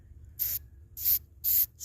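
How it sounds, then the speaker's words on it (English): A nearly empty aerosol spray can fires three short hissing bursts, evenly spaced and close, each about a quarter second long with quiet pauses between. "this can is almost empty, but as I spray it, you'll see"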